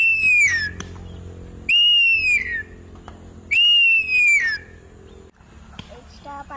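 A person whistles an imitation of a kite's call, three high descending whistled cries spaced about two seconds apart, close and loud, with quiet background between calls.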